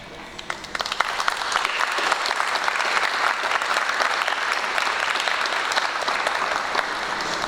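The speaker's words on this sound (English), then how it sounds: "families, friends deserve, a round of applause" Guests at a UK university graduation ceremony in Manchester applaud steadily, a continuous wash of many hands clapping at moderate volume from start to finish.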